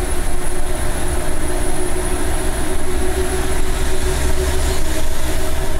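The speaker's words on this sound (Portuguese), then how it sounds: "Achei que tinha um escapamento direto desse caminhão aí." A truck with a straight-pipe exhaust on a road near São José dos Pinhais sends out a steady low rumble with a droning tone that stays loud and even throughout, with no talking.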